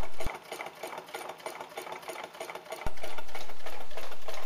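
A small Stirling engine driven by a 70 watt halogen bulb runs at about 198 RPM, giving a fast, steady mechanical clatter like a sewing machine, close and alone, with a brief pause before resuming louder.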